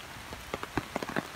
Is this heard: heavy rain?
yes